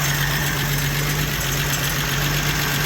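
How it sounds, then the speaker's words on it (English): The engine of an old $500 Jeep idles steadily up close, a constant low rumble with a faint knocking vibration and no talk. "It's actually idling really well."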